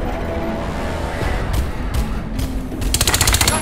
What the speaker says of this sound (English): Gunfire! Gunfire!